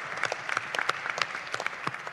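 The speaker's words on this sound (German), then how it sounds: "Deswegen kriegt der jetzt einmal einen extra Applaus." A small audience at a panel discussion on the digital energy transition claps for a departing guest, a sparse and fairly quiet patter of individual hand claps.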